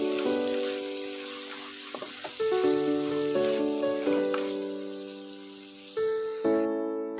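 Dried fish and egg fry in ghee in a pan, giving a steady, close sizzle with occasional louder bursts as the mixture is stirred. Bright tonal hum lines run alongside the sizzle.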